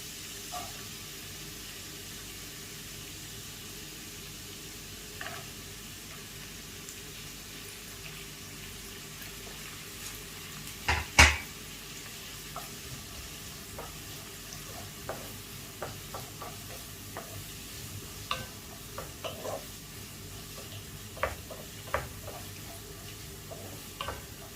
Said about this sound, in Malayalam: ഇതിലേക്ക് നമുക്ക് സവാള അരിഞ്ഞത് ഇട്ട് കൊടുക്കാം